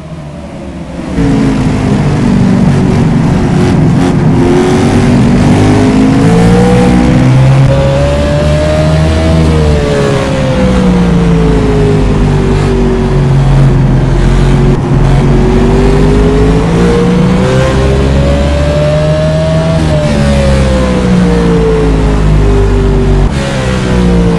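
Stock car engines at Martinsville roar together as the green flag drops, a loud, dense, sustained drone that swells and dips in pitch as the pack accelerates around the short track.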